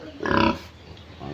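Pigs grunting in a rural piggery pen, a burst of loud, close grunts and squeals early on that fades to quieter low snorts toward the end.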